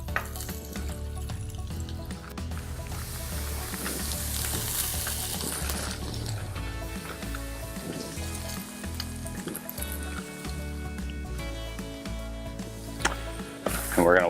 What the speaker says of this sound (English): I'm going to get this strip and ribeye going on the grill.